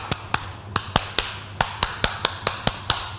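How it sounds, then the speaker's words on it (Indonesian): Children in a Surabaya primary-school class perform the Pramuka scout clap, a rhythmic pattern of about a dozen sharp, close hand claps in uneven groupings, with a low steady hum underneath and no talking. "Oke, dua kali tepuk pramuka."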